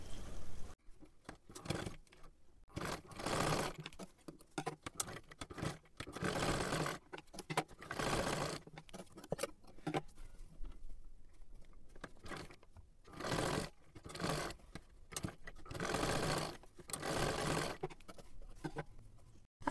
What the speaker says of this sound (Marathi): हे पहा अशी एकदम सरळ लाईनीमध्ये शिलाई करून घ्यायचं आहे